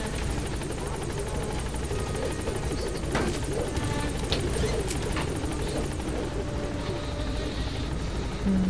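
Helicopter in Metal Gear Solid V flying in toward a landing zone, a steady rotor drone holding throughout with a faint higher whine above it.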